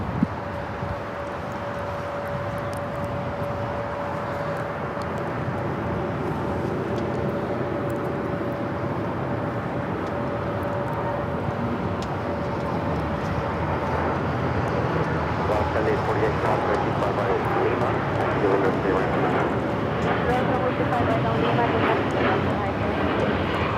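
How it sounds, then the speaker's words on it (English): A United Airlines Boeing 787-9 Dreamliner taking off at LAX, a steady broad jet roar with a constant tone, growing slightly louder toward the end, heard from a distance. "This is United Airlines 801 taking off to Hong Kong on the 787-9 Dreamliner."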